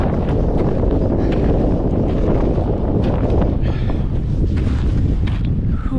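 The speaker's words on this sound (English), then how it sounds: "it's just so windy and cold" Cold wind roars high on Mount Baker in Washington's North Cascades, a loud, constant buffeting rush battering the microphone with no pause from start to finish.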